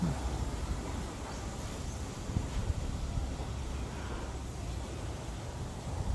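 Wind blows steadily along the Sahakorn canal near Samut Sakhon, Thailand, beside canal-side houses, a constant broadband rush and low buffeting against the microphone with no speech.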